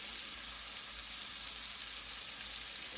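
Potatoes frying in a pan on a small burner between high and medium heat give off a steady, even sizzle, continuous and close with no talk.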